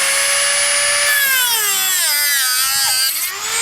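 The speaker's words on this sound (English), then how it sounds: "So we take our angle grinder," An angle grinder cuts through model railway track, a loud continuous high whine that sweeps in pitch as the disc bites into the metal rail, with no talking.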